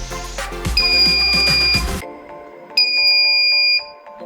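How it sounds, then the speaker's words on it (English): An Arduino-driven buzzer gives two sharp electronic tones, the first over a busier mechanical hum and the second alone after a brief gap, each lasting about a second. "As you can see, the buzzer is buzzing and the LED is also growing."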